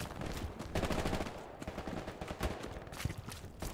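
Rapid gunfire in the World War II shooter game Hell Let Loose: dense bursts of rifle and machine-gun shots crackling continuously throughout, loud and close with overlapping reports.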